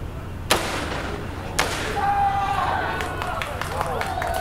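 Two sharp, booming blasts from an RPG fired at an outdoor shooting range in Cambodia, about a second apart, the second followed by a lingering rumble and rolling echo, with faint background chatter.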